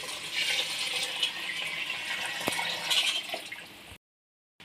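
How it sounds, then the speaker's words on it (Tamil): A steady stream of water pours close by into a cooking pot for a few seconds, then stops abruptly into silence. "அந்தளவுக்கு ரெண்டு மடங்கு தண்ணியை ஊற்றிக்கலாம்"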